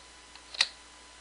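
A single brief keystroke on a computer keyboard while selecting events in data-entry software, sharp and close, with a faint click just before it.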